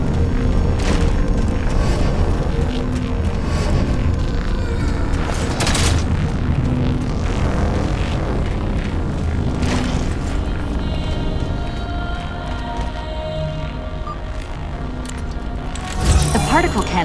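Explosion booms in Halo 4 reverberate through a dense, continuous game mix of rumbles and crashes, with a few sharper blasts standing out, including one near the end.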